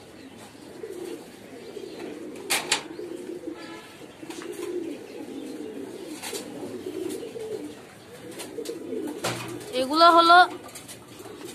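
A pair of Stenchil pigeons at a pigeon farm give soft, low, repeated coos, with a few sharper calls and a brief louder burst near the end, while someone talks over them.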